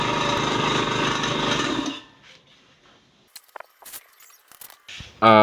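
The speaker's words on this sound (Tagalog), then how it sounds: "Kung gaano ba kalakas yung impact ng ating pong air blaster." A homemade air blaster pressurized to 80 PSI lets out a loud, sustained rushing blast of compressed air for about two seconds, then cuts off to quiet handling clatter and a sharp burst at the end.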